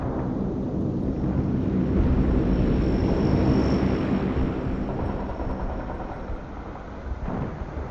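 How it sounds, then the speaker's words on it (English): A cargo plane in the World in Conflict video game flies in from the distance, a steady broadband engine roar that swells and then eases, loud and continuous, with no talking. "I order the cargo plane to drop my stuff on my drop zone"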